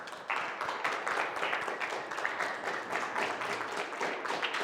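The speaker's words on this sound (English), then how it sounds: "If you could give them a massive round of applause," An audience at a university business statistics review session gives a round of applause, many hands clapping in a lively, steady patter that starts abruptly and holds throughout without talk.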